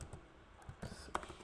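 Quick, uneven clicks of typing on a computer keyboard that is in poor condition, sounding close and quiet, a few scattered keystrokes with short pauses between them and no talking.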